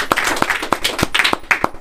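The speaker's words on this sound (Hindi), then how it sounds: "सब ताली लगा देंगे यीशु के लिए जोर से" Church congregation at a Sunday service clapping loudly together for Jesus, a close, brisk run of sharp claps in an uneven rhythm with no talk over it.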